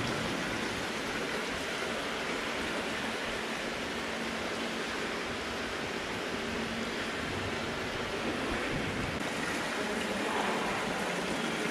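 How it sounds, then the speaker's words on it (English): Water cascading down a three-tiered marble fountain in a palace chamber, a steady, dense wash of splashing that runs unbroken and fairly loud throughout, with no voices. "This chamber has a three-tiered marble fountain to give the sound of cascading water"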